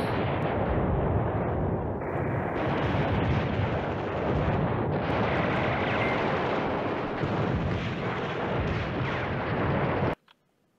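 Artillery bombardment in the wargame Command Ops 2, a dense, continuous roar of rumbling blasts and booming impacts that runs loud for about ten seconds and then cuts off abruptly.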